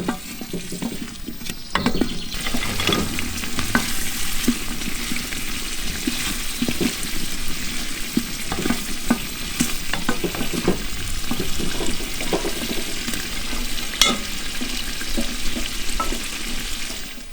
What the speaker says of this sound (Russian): И теперь нам нужно это все обжарить в сливочном масле.